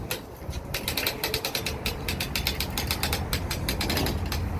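Rapid ratchet and pawl clicking from a box-lifting machine's mechanism being ratcheted upward, a dense run of sharp metallic clicks in fairly regular rhythm, close and steady throughout with no talk.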